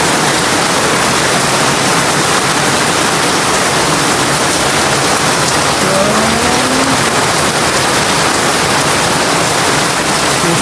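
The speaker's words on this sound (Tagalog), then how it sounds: "Ulan guys, pusog." Heavy rain pours in a loud, dense, steady roar that fills the whole clip, with no pauses and nothing else standing out.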